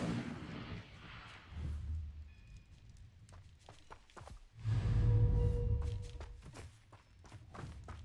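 Incendio fire spell cast in Hogwarts Legacy: a low, rumbling burst of flame swells in the middle, with scattered sharp crackles and soft steps before and after.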